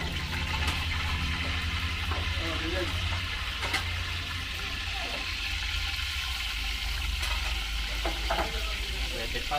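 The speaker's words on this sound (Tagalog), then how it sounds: "At una po nating lulutuin dito ay pork binagoongan." Pork binagoongan sizzles and fries in a pan while being stirred, a steady close crackle with scraping stir strokes, part of outdoor cooking for a large birthday celebration.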